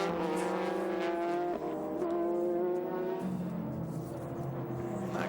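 Super GT race cars at the 2006 Motegi 300 km race drone loudly and steadily, their engine notes holding and then shifting in pitch as they run past, with no talking.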